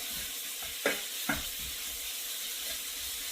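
Bacon sizzles in a pot for clam chowder, a soft steady frying hiss broken by two sharp utensil clinks against the pot, quiet and with no voices.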